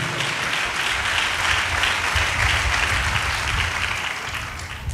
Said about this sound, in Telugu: అందరూ సంతోషంగా చప్పట్లు కొట్టి దేవుని మహిమపడదాం